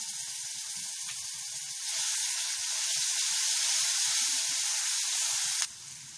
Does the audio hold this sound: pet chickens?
no